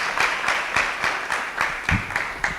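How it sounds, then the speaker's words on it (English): An audience at a conference main stage applauds after a talk, a steady wash of many hands clapping that holds for a few seconds at moderate loudness, with no voices over it. "A big round of applause for Nadine, please."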